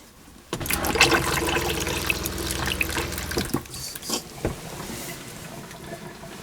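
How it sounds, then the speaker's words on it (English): Steady rushing water pours and trickles into a caravan toilet cassette nearby, continuous for several seconds before tapering into lighter, uneven splashes. "you can actually hear it trickling into the cassette"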